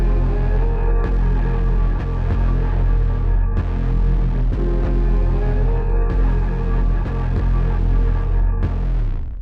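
Heavy 808 bass and a melody play together with no EQ, the deep booming low end dense and muddy under the tune, loud and continuous throughout a hip-hop-style mix.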